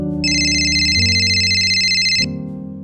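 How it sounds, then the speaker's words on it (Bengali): A mobile phone rings with a single bright electronic ringtone phrase lasting about two seconds over a soft, low musical background. It is fairly close and clear, with no talking. "আহা, কখন থেকে ফোনটা বাজছে,"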